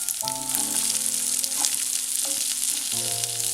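Sliced onions sizzling in hot oil in a pan for Kerala chicken curry, a steady bright frying hiss throughout with faint tonal hum and occasional clicks of stirring.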